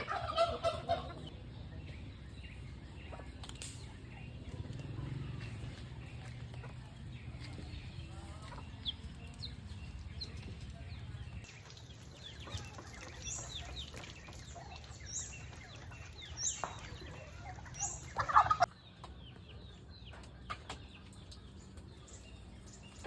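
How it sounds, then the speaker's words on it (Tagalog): Fowl calls, including turkey gobbles and clucking, repeat intermittently outdoors in Palawan over a low steady background, fairly faint with one louder burst near the end. "Oh, pabo."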